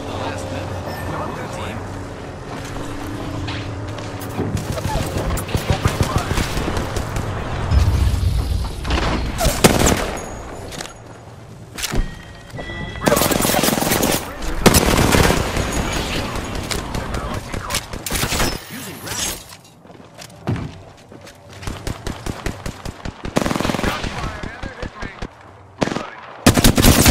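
Machine guns fire in a video game, loud and close, in repeated long bursts and rapid staccato volleys broken by short gaps, with voices heard over the gunfire.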